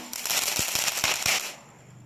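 Firecrackers set off for the Vishu festival give a quick series of sharp cracks and pops over a continuous crackling hiss, moderately loud and close, fading out after about a second and a half.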